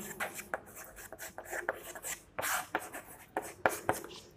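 A pen scratches and taps across a surface in short irregular strokes while an electric dipole problem is worked out, close and faint, with no talk.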